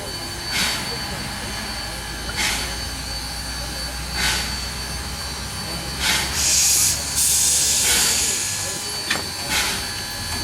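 Steam locomotive on the Tavares, Eustis & Gulf Railroad backing in to couple, its steady loud hiss and low rumble running throughout, with several sharper bursts of escaping steam.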